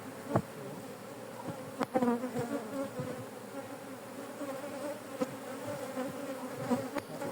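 An aggressive honeybee colony preparing to swarm hums continuously during a hive inspection, a close, steady buzz with sharp knocks and taps from the frames being handled.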